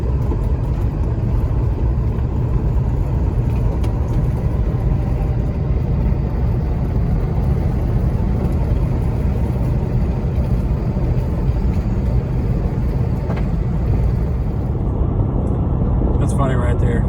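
A car travels along US Route 53 southbound in Wisconsin, giving a steady low road rumble and engine drone from inside the vehicle that continues unbroken throughout.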